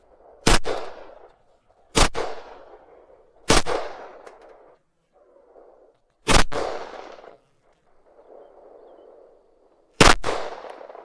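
Five sharp, loud Luger P08 pistol shots fired at a range, spaced a second or more apart, each with a short echoing tail and quiet gaps between.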